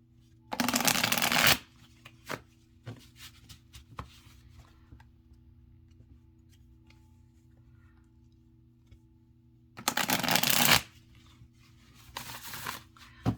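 A flexible tarot card deck is shuffled in two loud riffling bursts, one near the start and one late, with quiet gaps of soft handling and faint tapping in between.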